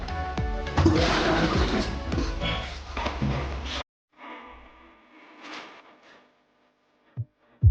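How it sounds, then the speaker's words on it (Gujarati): Loud rushing water pours steadily into a small water tank for a few seconds, then cuts off, leaving quieter trickles, splashes and a couple of short knocks. "આ છે આપણું પાણી આવી ગયું છે પાણી ભરવાનું છે"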